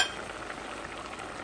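Dried prawns going into a pan of half-cooked mango curry give a soft, steady sizzle and frying hiss, faint and even throughout with no voices.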